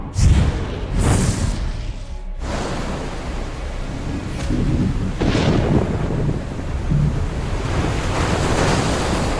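Roaring wind and crashing waves from a simulated top-level storm in an animated naval battle, a continuous loud, dense surge with gusting bursts and rumbling swells, no voices.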